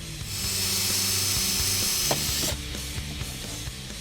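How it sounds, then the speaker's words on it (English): A power drill bores out a rivet on a 2015-2017 Mustang GT front splitter, a steady high whine with a grinding, hissing edge that shifts pitch as the bit bites and then eases off. "you can see the rivet in there we got to drill out as well"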